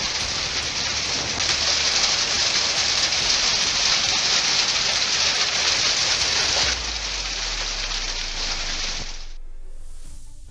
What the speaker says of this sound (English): Hail, heavy rain, and powerful winds pounded eastern Queensland as a major storm formed.